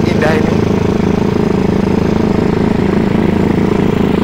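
A rigid-framed chopper-style street cup motorcycle engine runs loudly with a steady low throbbing idle close by, while someone talks over it.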